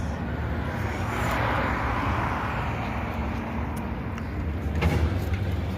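A Tata Super Ace truck fitted with a Nissan 1400 engine is driving along, giving a steady engine drone and road noise with a brief rise near the end and no talking.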